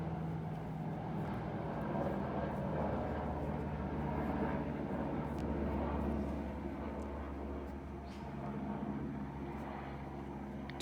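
A faint, distant airplane drones overhead, a low steady rumble that holds for the whole stretch with no talking.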